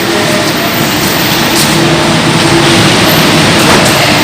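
A car engine running in the basement car park of Istiqlal Mosque, a loud continuous rumble with hollow, echoing road noise filling the enclosed space.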